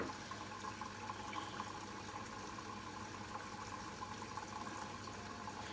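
A Bosch Serie 8 WAYH8790GB washing machine on a SuperQuick 15 cycle fills with rinse water, a steady faint rushing flow without pauses.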